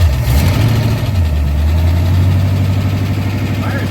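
Engine of a 1962 Ford Falcon running at a loud, steady idle close by, a rough low rumble that needs a valve adjustment, with voices talking over it.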